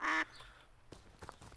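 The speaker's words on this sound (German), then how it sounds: "Ich kann quaken." A single loud, short duck quack from the video game Duck Side opens the moment, followed by faint game ambience and soft clicks.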